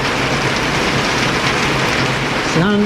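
Heavy afternoon rain pours steadily in Vientiane, Laos, during September, a dense continuous hiss of drops filling the scene at close range, with a brief tonal sound rising near the very end.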